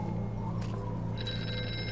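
A ringing phone in the VR game Here They Lie gives a bright, sustained bell tone that comes in after a low ambient hum and holds steady to the end. It sounds clear and fairly close, with no talking.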